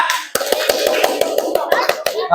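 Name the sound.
group clapping hands for a class group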